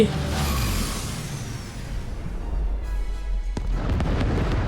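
A spaceship explodes in the video game Ratchet & Clank, a loud, sustained rumbling boom with crackling debris that rolls on for several seconds, heard alone with no talking.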